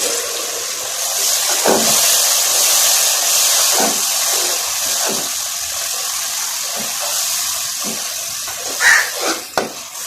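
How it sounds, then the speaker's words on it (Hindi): Tadka for a rice dish hisses and sizzles as boiled water is poured onto it, a continuous loud gurgling, splashing rush with a few sharper spattering bursts near the end. "अभी तड़का इसी पानी का लगाऊंगी।"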